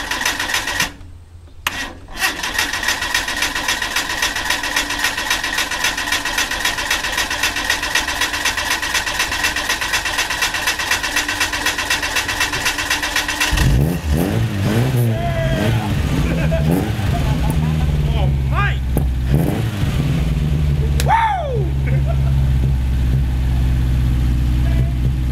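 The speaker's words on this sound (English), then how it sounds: "Let's crank it and see what happens." Old car engine left sitting for 8 years cranks with a rapid, even mechanical whirr for about thirteen seconds, then catches and fires into a loud, rough running rumble with uneven revving, heard up close.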